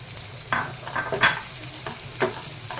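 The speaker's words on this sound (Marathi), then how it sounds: "बऱ्यापैकी आपला कांदा भाजत आलेला आहे" Onion frying in a pan while being stirred: a soft sizzle underneath, with a handful of short scraping strokes spaced unevenly over a few seconds.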